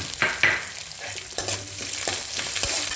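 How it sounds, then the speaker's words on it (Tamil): Ginger and onion sautéing in a pan for green chilli chutney, a soft continuous sizzle broken by several scraping stirs of a spatula, close and moderately quiet, no voices. "இப்போ இஞ்சி போடுவோம் வெங்காயத்தை போட்டுருவோம்"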